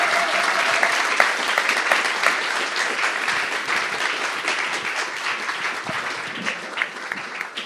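An audience at a live talk show at the Danube Institute applauds former Australian Prime Minister Tony Abbott. It is a full, sustained round of many hands clapping, loud and even throughout with little change in intensity.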